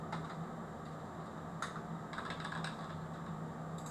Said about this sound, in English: type a bit more